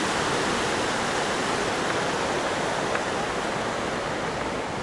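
Düden Waterfall in Antalya, Turkey, sends up a steady, dense roar of rushing water. The wash is close and unbroken throughout, and no voices rise above it.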